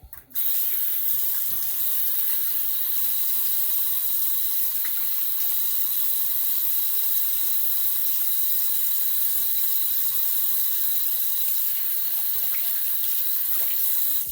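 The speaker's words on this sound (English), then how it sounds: "let me go ahead and rinse this off" A bathroom tap runs steadily into a sink as a razor and face are rinsed after a shave, a constant close hiss of flowing water that starts abruptly and continues unbroken without speech.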